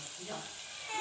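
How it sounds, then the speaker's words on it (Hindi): Green chillies frying in hot oil in a home kitchen, giving a steady, even hiss and sizzle, close and moderately quiet. "ये देखिए हरी मिर्च मेरी तकरीबन फ्राई हो गई है"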